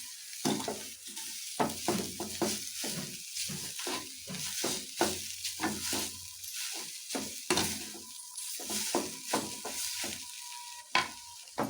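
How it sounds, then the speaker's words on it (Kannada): Grated coconut being stirred and mixed in a hot pan for a greens palya, with repeated scraping strokes and a steady sizzle underneath, close and fairly loud, no talking. "ಎಲ್ಲ ನೀಟಾಗಿ ಮಿಕ್ಸ್ ಮಾಡ್ಕೊಳ್ಳಿ."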